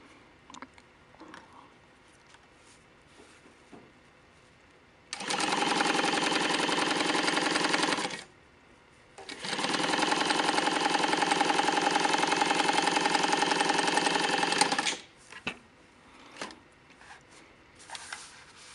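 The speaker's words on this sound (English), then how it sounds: "Test your stitching on some scrap." A Juki DU-1181N industrial walking foot sewing machine stitching scrap fabric in two steady bursts, about three and six seconds long, with a short pause between them and quieter handling noises before and after.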